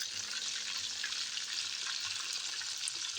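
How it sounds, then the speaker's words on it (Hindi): Fish for a Lahori fish fry sizzles in hot oil, a soft, even hiss with faint crackling held at a constant low level, no voices over it. "तो बहुत अच्छे तरीके से ये फ्राई हो रही है।"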